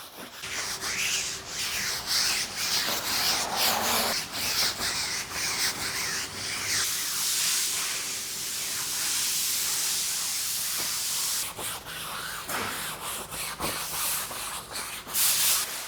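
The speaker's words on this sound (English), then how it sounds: "we're going to be using a soft bristle brush to work in the product and so we don't damage the soft top" A soft bristle brush scrubs cleaner into the fabric soft top of a 2003 Volkswagen Beetle, with close, irregular rubbing strokes broken by a stretch of steadier hissing before the scrubbing picks up again.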